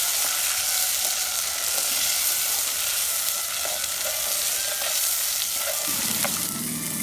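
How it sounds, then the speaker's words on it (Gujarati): Onion tomato gravy stirred in a hot pan, a constant loud sizzle with scraping spoon strokes layered on top, close and without speech. "ત્યારબાદ કાંદા ટમેટાની ગ્રેવી નાખીશું બરાબર રીતે બધું મિક્સ કરી લઈએ"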